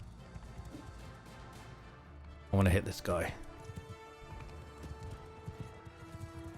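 Rhythmic hoofbeats of a galloping horse in Bannerlord during a mounted battle, steady low thudding throughout, with someone talking over it briefly and a sudden impact in the middle.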